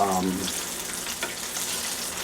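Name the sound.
chicken frying in coconut oil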